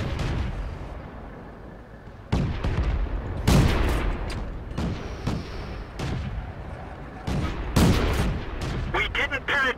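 Tank cannon fire in the video game World of Tanks: heavy booming shots and impact blasts repeating every second or two over a constant loud rumble of battle, with game voices mixed in.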